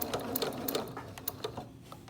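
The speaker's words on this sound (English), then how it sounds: "now that we're back at our machine, we're gonna go ahead and finish up this top stitching" A sewing machine top stitches a fabric face mask in quick, rhythmic bursts of needle clatter, close and clear, easing slightly toward the end.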